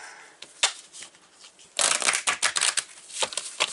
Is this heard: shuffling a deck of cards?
yes